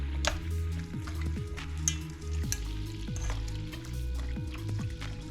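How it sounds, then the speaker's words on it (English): Vegetables for egg rolls are stirred around in a pot of boiling water to blanch them, giving a close, steady bubbling and sizzling with soft liquid sloshes and occasional clinks of the utensil, and no talking. "And just stir them around a little."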